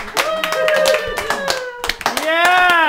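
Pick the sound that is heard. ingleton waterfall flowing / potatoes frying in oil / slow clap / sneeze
slow clap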